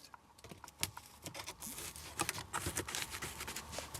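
Old duct tape is peeled off an AC duct in quick crackling, tearing bursts, close and fairly faint, with a steady patter of small rips.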